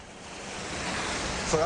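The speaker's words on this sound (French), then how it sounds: "Le vent, le vent, le vent." Wind blowing outdoors, a steady broad rush that swells slightly toward the end, with a brief brighter gust or whistle at the close and no talking.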